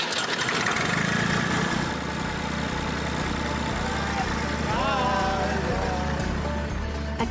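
A classic tractor engine turns over and settles into a steady low idle, a loud continuous rumble with a faint rising whine partway through.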